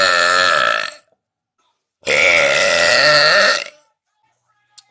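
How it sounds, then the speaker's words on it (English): A person lets out two long, loud, deliberate burps, the first about a second long and the second nearly two seconds, separated by silence. "What made me want to start burping on TikTok?"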